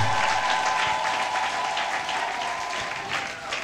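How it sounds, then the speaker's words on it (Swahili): A church congregation breaks into sustained, dense applause during an Easter sermon, with a steady high ululation threaded through the clapping, loud and continuous throughout. "Pigia Yesu makofi mazuri na vigelegele."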